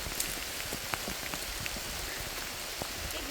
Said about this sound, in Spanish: Vean, vean, está lloviendo, está lloviendo.